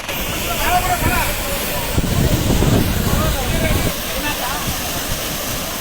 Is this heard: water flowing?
yes